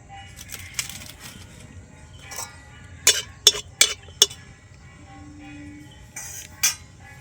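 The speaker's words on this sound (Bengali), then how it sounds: "এখানে আমি 2টো এলাচ আর একটা দারচিনি নিয়েছি, সেটা দিয়ে দিচ্ছি তেলের মধ্যে।" Whole cardamom pods and a cinnamon stick dropped into lightly heated oil for sweet jujube pickle, with a quick run of sharp metallic clinks and taps of utensils against the pan, close, with faint background noise.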